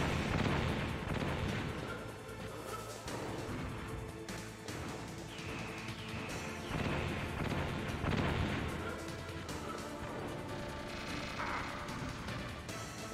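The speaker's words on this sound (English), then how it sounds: "Stop shooting me." Gunfire from the Metal Gear Solid video game, dense and continuous with repeated loud bursts and impacts over a steady rumble throughout.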